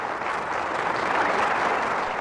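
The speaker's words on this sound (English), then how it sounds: "There is also praise and applause for the men who oversaw the project, Khrushchev and Kaganovich." Crowd of delegates at a Soviet congress applauding in old archival footage, a dense, steady wash of clapping heard close and loud, alone for a couple of seconds.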